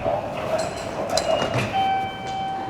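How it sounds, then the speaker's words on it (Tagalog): An electric Enoden train passes near Enoshima in the rain, with a rising whine and clattering wheels, a faint chime and hum carrying over the rumble. "Ang cute ng tren."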